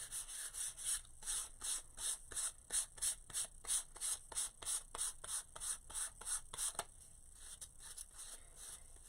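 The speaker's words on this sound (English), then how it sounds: "I'm just taking off the big bits. Okay? This grade of sandpaper is not going to take off a lot." Sandpaper rubbing over a wooden decor mushroom, rapid rhythmic back-and-forth scratching strokes, close and clear with no talk.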